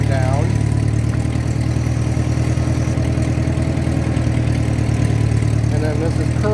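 A Ford 8N tractor with a Sherman 54C backhoe idles steadily while the hydraulic boom is worked up and down, a low continuous engine chug with slight load changes and no talking.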